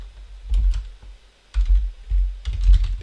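Bursts of keystrokes on a computer keyboard, a quick run of clicks, a pause, then two more flurries, close and fairly loud with no voice over them.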